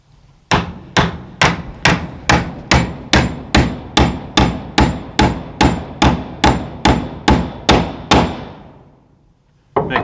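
Hand hammering during a solar kiln build, about fifteen sharp, evenly spaced metallic whacks in a steady rhythm, loud and close, each ringing briefly before the next, then stopping with one more blow at the very end.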